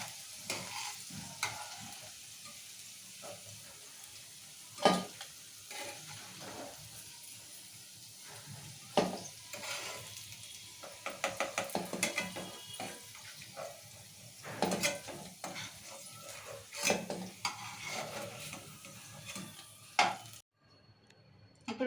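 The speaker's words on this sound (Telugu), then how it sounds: "మిగతా కూడా ఇలా వేస్తున్నాం ఇక బెండకాయలన్నీ ఇక ఇట్లా ఫ్రై చేసేసుకొని" Okra pieces fry in oil in a pan, giving a continuous sizzle broken by repeated scraping and stirring strokes and occasional clinks of a spatula. The sound stays close, with no voices, and cuts off abruptly near the end.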